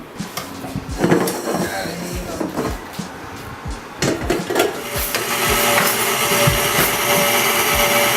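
A blender mixing guava and cream cheese, with clattering handling knocks at first, then a steady whirring motor drone that builds and holds toward the end, close by.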